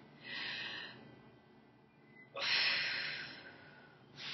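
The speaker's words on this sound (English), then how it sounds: "so you want to breathe in." Two deep breaths drawn in during a voice lesson, airy and close, the second longer and stronger than the first.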